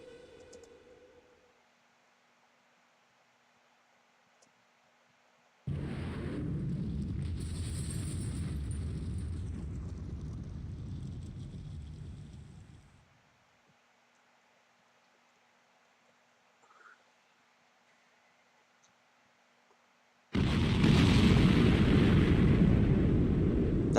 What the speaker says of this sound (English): That is a big nuke, not gonna lie.